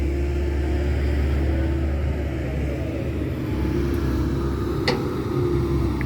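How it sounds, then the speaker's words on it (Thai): A steady, loud low rumble of an auger bit grinding continuously against rock, with a brief sharp scrape partway through. "ฟันนี่กระทบกับหินเลยคูคูเลยฮะ"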